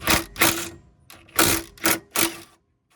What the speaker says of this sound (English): we're gonna have to break those loose with the gun